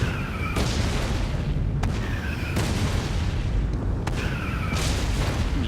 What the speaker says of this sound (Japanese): いくらお前でも顔面に砲撃を食らえば少しは効くか